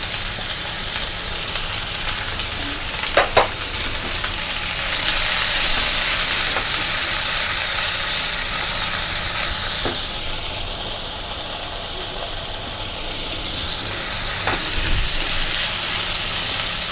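Chopped green chili, ginger and onion fry in a hot pan with a loud, steady sizzle and hiss. A few sharp clinks of stirring are heard, and nobody speaks.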